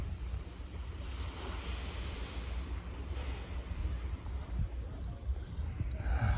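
Sea waves wash steadily onto a sandy beach shore in a continuous rushing surge, mixed with gusty wind across the microphone and no voices.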